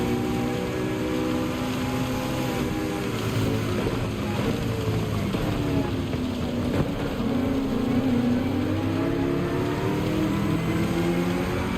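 A race car's engine in Gran Turismo 7 bogs down at launch, a continuous loud drone with harmonics sagging and then slowly climbing in pitch, steady throughout with no talk over it.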